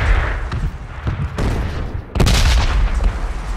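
Gunfire and heavy explosive impacts in PUBG on the Miramar desert map, loud, dense bursts of shots with a sharp, stronger barrage in the second half, no talk.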